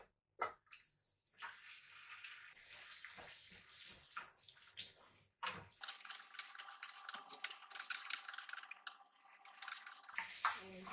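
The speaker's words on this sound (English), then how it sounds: "just keep on stirring until the ingredients turn into darker color" Blended ingredients frying in three tablespoons of oil, stirred in a pan, give intermittent scraping and sizzling noises with brief pauses, fairly quiet and close.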